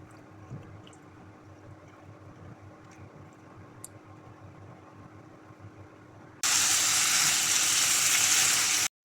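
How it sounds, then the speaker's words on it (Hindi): Chicken frying with ginger garlic paste in a pan, a soft crackle at first, then a loud steady sizzle that starts suddenly near the end. "अब हम अदरक लहसुन के पेस्ट को 2 से 3 मिनट चिकन के साथ अच्छी तरह से भून लेंगे"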